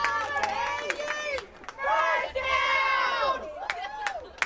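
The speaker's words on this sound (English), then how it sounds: "Crowd enjoyed that." A football crowd at a high school playoff game between Bowman County and Velva cheers and shouts in loud bursts, with high whoops and yells rising and falling over several seconds.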